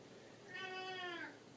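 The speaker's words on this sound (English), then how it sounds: "Kobe, don't meow." A single clear cat meow, drawn out and slightly falling in pitch, close by in a quiet room.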